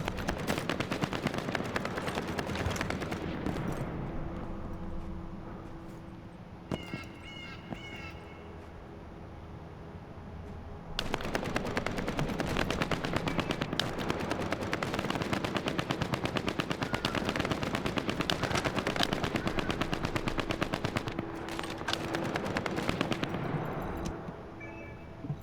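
Sustained automatic gunfire from The First Descendant video game, with rapid rattling bursts and sharp shots that dip briefly in the middle before resuming at full intensity.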